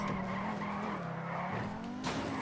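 Video game cars racing in GTA V, including a Ferrari, engines droning close with long tire squeals and skids rising and falling, loud and continuous.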